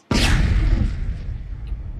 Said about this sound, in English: So with the cannon blast and the cannonball with sound, now we can hear it has a low end.